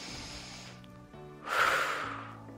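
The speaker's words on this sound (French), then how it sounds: "Et on prend des grandes respirations." A person takes deep breaths while stretching the back, with a long nasal exhale followed by a louder, breathy inhale, close and clear over a faint background hum.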